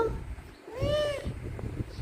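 A cat gives one clear, close meow with a rising then falling pitch, loud against quiet indoor background noise. A voice sounds faintly before the meow.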